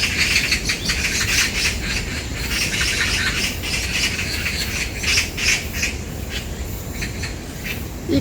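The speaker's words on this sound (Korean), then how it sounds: "이 까치들이 싸우고 있네" Several magpies fight in a territorial scuffle, giving repeated harsh, raspy squawks and chatter in irregular bursts, fairly close and loud over a rustling outdoor background, with no talk.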